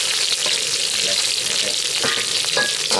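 Instant noodles stir-frying in a wok with crab and curry powder, a steady loud sizzle with scraping stir strokes throughout, close by and continuous.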